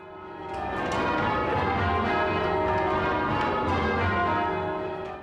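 The church bells of St Mary's, rung by bell ringers, ring out in a continuous peal, overlapping strikes blending into a loud, resonant wash that swells in and holds steady.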